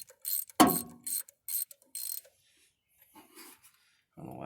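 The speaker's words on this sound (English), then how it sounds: "I don't know why it took so long for that thing to wrench down" A ratchet wrench tightening a bolt during a race car head gasket change, a burst of quick close clicking strokes followed by quieter intermittent clicks and shuffling.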